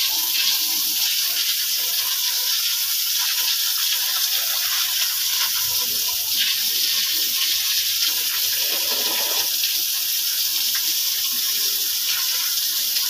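Water gushes and splashes steadily from a hose while a pig pen is washed out, a continuous hissing spray close by with faint voices in the background.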